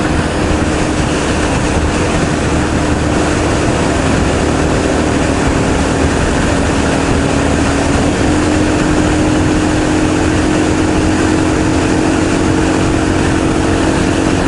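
A 2015 Suzuki S40 Boulevard motorcycle cruises at highway speed with a constant loud engine drone and heavy wind rush that stays unchanged throughout, without any talk.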